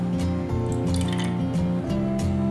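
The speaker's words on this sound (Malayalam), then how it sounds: "ഞാനിവിടെ 1 teaspoon വെള്ളം ഒഴിച്ചിട്ടുണ്ട്." A teaspoon of water poured into beaten eggs in a bowl, a short liquid trickle and drip heard close and fairly loud against a steady low background hum.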